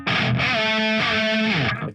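High-gain distorted electric guitar through a Line 6 Helix amp model with a tube screamer tightening the low end and post EQ, playing a sustained djent-style chord held for about two seconds, loud and alone.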